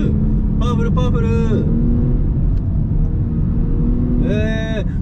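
Nissan Fairlady Z NISMO fitted with NISMO parts, engine revving and pulling hard through the mid-range, a loud steady drone with rising rev sweeps near the start and end, heard from inside the car.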